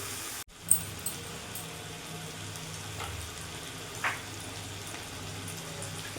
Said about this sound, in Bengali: কিছুক্ষণ ভাজা ভাজা করে নেবো।